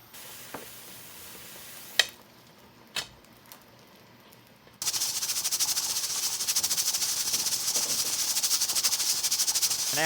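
Steady loud hiss from a pressure cooker at 15 psi sterilizing Petri dishes and agar, beginning abruptly after a few faint clicks and taps and continuing evenly to the end.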